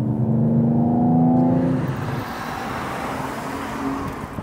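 A 2021 Mercedes-AMG E53 pulls hard in second gear, its engine note rising with turbo whoosh, loud and close at first, then fading into steady road and tire rumble.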